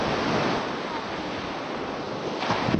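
Waves break on a Baltic sea beach near Pobierowo, making a continuous broad wash of surf mixed with gusty wind buffeting the microphone, with no talking.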